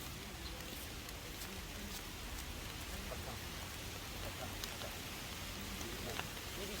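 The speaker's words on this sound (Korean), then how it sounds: "비 많이 와서 가야 되겠어요 여기는 비 피할 데가 없습니다" Heavy rain pours down steadily outdoors in a spot with no shelter, a dense, even hiss with scattered nearby drops and no voices.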